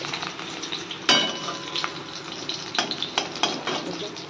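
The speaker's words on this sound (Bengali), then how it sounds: "বেগুনটা ভাজছি" Brinjal slices fry in hot oil in a home kitchen, a steady close crackling sizzle broken by a few sharp clinks of a utensil against the pan.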